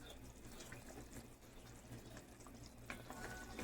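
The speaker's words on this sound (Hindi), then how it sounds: "माशाल्लाह पानी उबल गया बहुत अच्छी तरह से" Water boiling in a covered pot on the stove while cooking chana daal, a steady low bubbling and hiss that stays continuous and fairly quiet throughout, with no voices.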